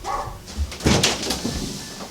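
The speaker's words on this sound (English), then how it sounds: "He's barking at the door and I don't know why. Probably the mailman." A dog barks at the door, apparently at a mailman, in a few short, muffled barks mixed with some thumping and faint whimpering, with no talk over it.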